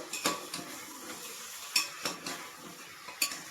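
Chicken stew being stirred in a pot, with a spoon scraping and clinking against metal in a few distinct strokes over a soft background sizzle.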